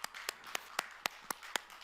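A church congregation applauding to give glory to God at a New Year's Eve service, heard as a faint, sparse series of single sharp claps at an even rhythm, roughly four per second, with no talk.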